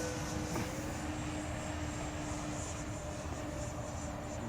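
A Freewing Vulcan RC model jet in camouflage paint flies on a re-maiden flight, its engine giving a steady, distant whooshing drone that holds evenly throughout without talk.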